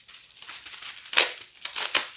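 Bubble wrap around a boxed beauty product is handled and pulled open, producing close, soft crinkling and rustling in short irregular bursts with a couple of louder crackles.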